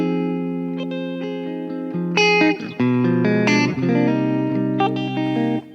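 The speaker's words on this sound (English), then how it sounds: "the chord I'm gonna show you is a diminished chord." Electric guitar with heavy effects and slight distortion plays a diminished chord in an R&B style, several sustained, reverberant strums ringing one into the next with no talking.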